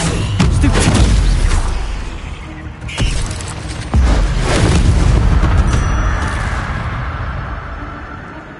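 Stupefy spell impact in Hogwarts Legacy, heavy booming blasts and rumbling impacts that overlap, then fade into a lingering, airy tail.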